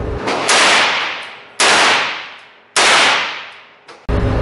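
Three loud rifle shots from a rifle fitted with a Nor'easter .450 muzzle brake, each a sharp blast followed by a long decaying echo, roughly a second apart, with a fourth shot starting at the end.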